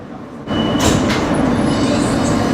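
A New York City subway R160B Siemens Q train running: after a quieter start, a loud steady rail rumble with a high metallic wheel hiss sets in and continues without a break.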